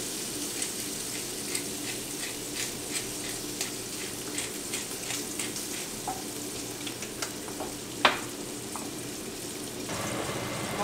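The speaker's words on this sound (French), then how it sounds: "je le laisse dans la poêle et je mets après les pâtes dans la sauce, dans le gras" Guanciale and pasta sizzle steadily in a frying pan in rendered fat, a constant close hiss with scattered crackles, light stirring clicks and one sharp clink near the end.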